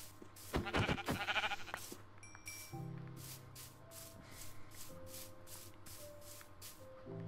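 Sheep in Minecraft bleat several times and get sheared, with a rapid run of rhythmic rubbing, spraying shear strokes following the bleats, fairly quiet, with no talk.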